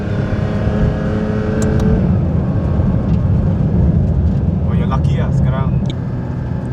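A rear-wheel-drive Porsche GT3 RS driven on a track, with a constant loud engine and road roar throughout and a voice talking over it.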